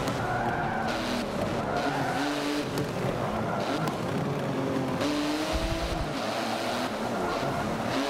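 A BMW i8 race car in Forza Motorsport 7 skids and revs through corners, engine tones rising and falling under repeated tire screeches, a busy, continuous game soundtrack with no talking.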